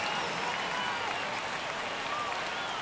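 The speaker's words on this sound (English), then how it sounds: "Crowd locked in right now." Steady roar of a baseball stadium crowd cheering during a tense ninth inning of a Boston Red Sox versus Texas Rangers game, a dense, even wash of noise with no breaks.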